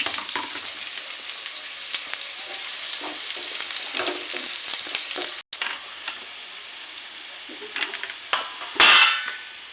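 Chopped onions and green chillies fry in a pan toward browning with a loud, dense, crackling sizzle. Stirring scrapes cut in, the sound drops out for an instant, and a sharp clatter comes near the end.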